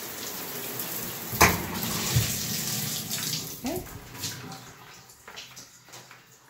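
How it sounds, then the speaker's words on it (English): Water runs in a bathroom shower after a repaired shower diverter starts working, a steady close hiss of spray with a few clunks and splashes, fading slightly toward the end. "here's the shower diverter that wasn't working"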